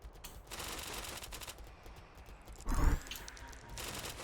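A bow in an archery video game prototype looses a burst of many arrows, a dense rattling volley of quick snaps that peaks loudly midway through a busy, noisy game soundscape.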